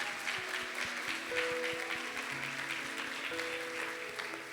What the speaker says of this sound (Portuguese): Aplauda o Senhor agora, geral.